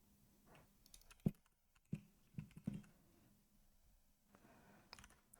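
A slightly warped computer keyboard clicking faintly as keys are typed, with several soft, hollow clanks where it knocks against the table, scattered and irregular in a quiet room.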